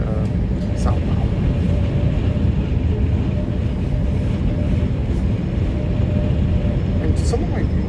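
A southbound REM light rail train passes by, its broad, steady rumble and rolling noise running through the whole stretch at close range, with faint higher squeals near the end.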